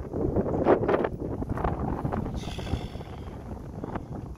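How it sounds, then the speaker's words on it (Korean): Wind blows over a rye field on a farm, gusting in rough, buffeting bursts against the microphone with a soft rustle underneath, steady and close. "바람이 불면"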